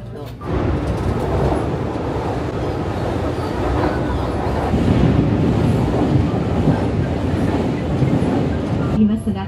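A train rumbles steadily along the line toward Namba in Osaka, a loud continuous interior roar with faint rhythmic clatter, heard from inside the carriage throughout.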